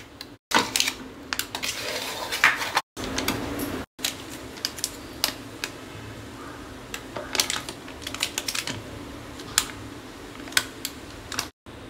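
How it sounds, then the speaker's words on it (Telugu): A knife cuts through cooled, set Mysore pak sweet on a plate, producing sharp scraping clicks and taps in irregular bursts, close and fairly loud, broken by several brief silent gaps. "కొంచెం చల్లబడింది, ఇప్పుడు నేను కట్ చేసుకుంటాను."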